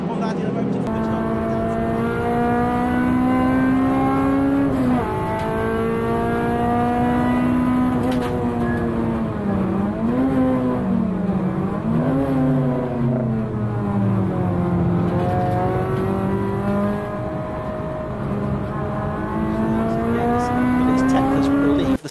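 Alfa Romeo race cars at Silverstone Circuit, UK, roar past with loud sustained engine notes rising and falling through gear changes as the field approaches and passes close by.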